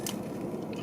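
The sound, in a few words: biting crunchy Sweet Tarts Chewy Fusions candy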